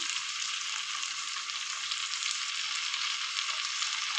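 Mutton sautéing in spiced oil in a pan, a steady, dense sizzle with no break, close and fairly quiet, and no talking.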